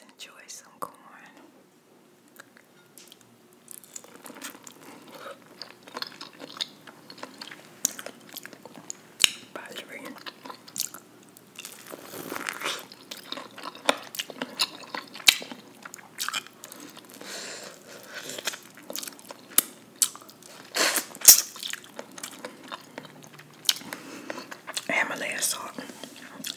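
Close-up ASMR eating of corn on the cob seasoned with black pepper and Himalayan salt: crisp bites and moist chewing with frequent crunches, repeated throughout, with soft whispering at times between mouthfuls.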